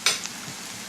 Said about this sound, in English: I'm cooking the excess water out of the Swiss chard now because I don't like soupy greens